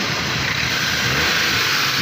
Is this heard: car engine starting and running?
yes